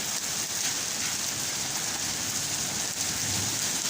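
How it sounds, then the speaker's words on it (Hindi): Large hailstones pelting down during a storm in Islamabad, heard as a dense, steady, loud hiss of impacts with no pauses and no voices. "इस्लामाबाद का खूबसूरत मौसम और बहुत मोटे मोटे ओले पड़े हैं जी।"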